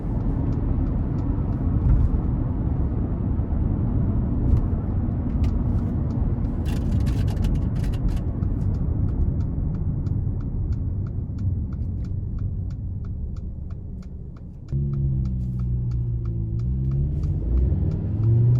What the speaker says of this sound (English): So really good pull from this turbocharged engine.